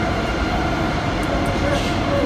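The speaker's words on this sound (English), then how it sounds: "I know these trains stop kind of fast" A subway train rumbles steadily at close range as it pulls into South San Francisco station and slows to a stop, a dense continuous roar of wheels and motors with faint squeals on top.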